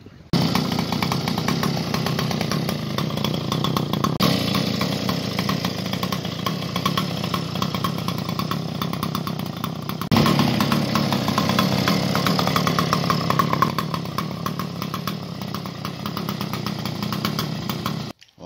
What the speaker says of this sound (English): So I think we'll get some fuel in it and fire it up.